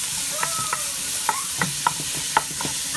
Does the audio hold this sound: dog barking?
no